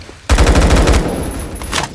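A rapid burst of automatic gunfire in the Roblox shooter Phantom Forces kicks in abruptly after a quiet start, loud and close, with the shots trailing into a rattling tail.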